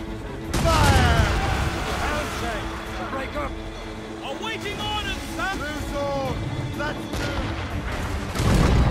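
Ship cannons firing in the video game Assassin's Creed Rogue, heavy booms at the start and end with a rumbling naval battle between them, mixed with shouting voices and music.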